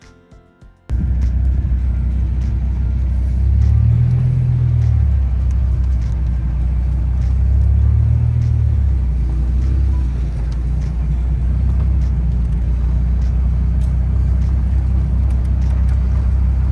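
A Dodge Viper cruising down the road on a long cross-country drive, its engine a steady low rumble with slow swells in pitch under constant road and wind noise, heard from inside the car with no talk.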